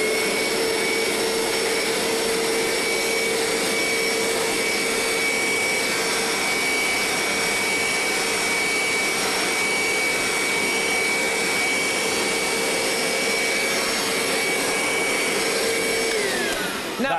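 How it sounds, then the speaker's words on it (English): A Vax Dual V upright carpet washer runs continuously on carpet, a loud steady motor whine with a strong hiss of suction and spray. It holds one even pitch throughout, alone with no voices, then drops off briefly at the very end. "This isn't a vacuum, this is a carpet washer."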